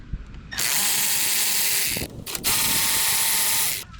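A power tool backs out Torx T20 bolts on a 2023 BMW S1000RR fairing chin piece, giving two close, loud bursts of high whirring and ratcheting separated by a brief pause.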